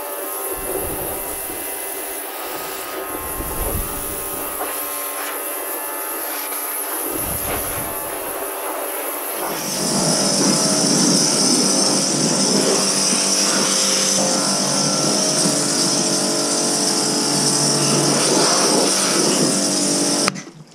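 A pressure washer rinses a 2019 dirt bike, a loud steady hissing spray that runs without a break and grows harsher and fuller partway through.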